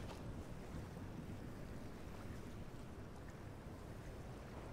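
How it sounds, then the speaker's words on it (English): A motorboat runs across open water in Fortnite, giving a steady, faint wash of engine drone and splashing spray with no talk. "Oh, I got a motorboat."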